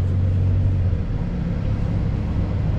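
A 2021 Ferrari Roma in comfort mode on a test drive through City Walk in Dubai gives a steady, deep engine rumble heard from inside the cabin, continuous and even throughout.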